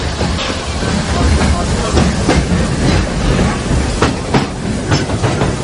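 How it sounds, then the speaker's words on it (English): Runaway mine trains of Big Thunder Mountain Railroad at Walt Disney World, loud continuous rumbling with clattering wheel noise and scattered sharp clacks, close by. "Keep your eyes peeled for the runaway mine trains of Big Thunder Mountain Railroad"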